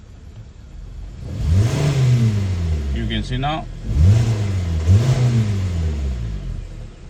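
A 2014 Hyundai Sonata engine with a knocking fault and a flashing check engine light revs repeatedly as the gas pedal is pushed, loud rising and falling swells close by, with someone speaking briefly between them.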